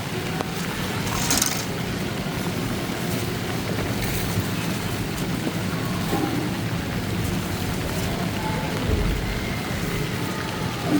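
Steady rain pours down outdoors with a constant hiss and patter, a few brief louder splashes standing out.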